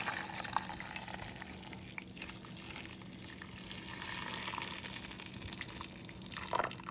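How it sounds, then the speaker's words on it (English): Hot water poured into a pot of corned beef with garlic cloves and bay leaf, a steady filling gush with faint dripping, fairly quiet and close, no talk over it. "I'm gonna cover these with water. I have a hot water over here."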